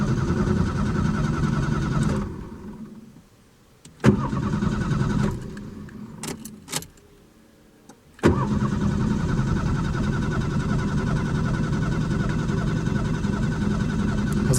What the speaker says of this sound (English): I'm genuinely impressed at how good it's cranking